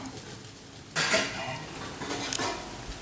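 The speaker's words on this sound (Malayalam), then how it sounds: "വീണ്ടും നന്നായിട്ട് ഇളക്കാം" A spoon stirring drumstick leaf thoran (muringayila) with turmeric in a pan, giving a few scraping, clinking strokes against the metal that start abruptly partway through, fairly close and with no talking.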